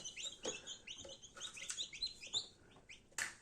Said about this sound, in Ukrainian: сюди посадимо наших чудових курчаток, які у нас вже вилупилися